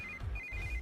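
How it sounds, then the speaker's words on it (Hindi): A mobile phone rings with an incoming call from a sister in a Hindi-dubbed South Indian film, a bright electronic ringtone trilling in short repeated bursts over a low room rumble. "इस वक्त दीदी का फोन।"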